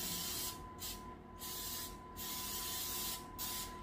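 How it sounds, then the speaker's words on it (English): Cooking spray hissing onto a large baking pan in several short bursts, each a few tenths of a second, close and fairly loud with brief pauses between. "cooking spray and spray it."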